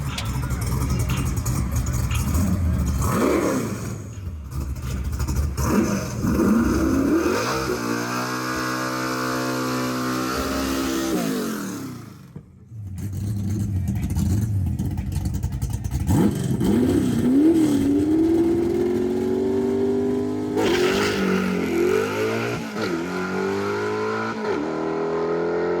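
A drag car with high tire pressure and a clutch launches, its engine revving and rising in pitch as the wheels spin, loud and close, with a brief cut-out midway.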